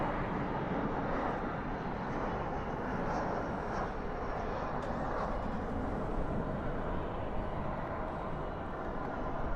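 An Airbus A321 airliner rumbles at Dallas/Fort Worth airport at night, a dense steady engine roar filling the clip at moderate level, with no clear voice on top.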